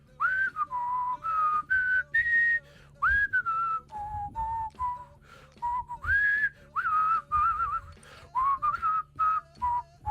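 A person whistles a melody alone in clear, sustained pitched phrases separated by short breaths, with a low steady hum underneath.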